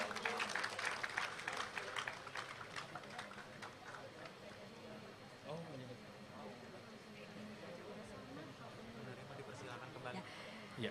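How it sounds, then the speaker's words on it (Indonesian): An audience at an Indonesian Independence Day ceremony claps strongly at first, then the applause tapers while a voice speaks over a softer, lingering patter. "Boleh tepuk tangan sekali lagi, hadirin sekalian"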